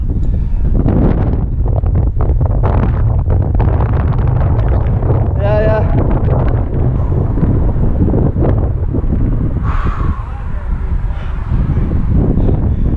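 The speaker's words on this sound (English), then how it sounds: "I can't hear you very well because of the wind up here." Strong wind buffets the microphone at Stoney Middleton, a limestone climbing crag, a constant loud roar throughout with shouted talk between climbers over it.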